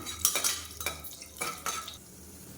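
Cashews and raisins roast in ghee, with a soft sizzle under repeated scraping and clinking of a spoon against the pan in short bursts.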